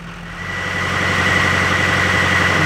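A warmed-up 2015 Chevy diesel pickup engine rises from idle into a steady, higher hum over a few seconds, with a sustained whine on top and no talking.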